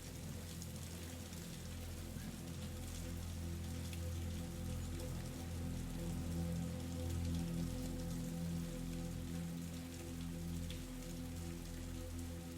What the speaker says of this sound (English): as the last raindrops fall, the thunder fading into the distance